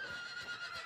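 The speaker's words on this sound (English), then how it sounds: "Oh my god, you killed the horse." A horse in a video game lets out a short, high whinny as it is killed, a wavering neigh lasting under a second, heard alone and fairly close.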